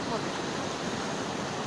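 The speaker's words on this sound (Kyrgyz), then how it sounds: "Мына Ал Арча дарыясы кечөөнү тоң турат эле, бүгүн болсо эрип сел жүрүп атат" Steady loud rushing roar of the Ala-Archa river running high as a mudflow flood after a thaw, continuous dense water noise with no pauses and no voices.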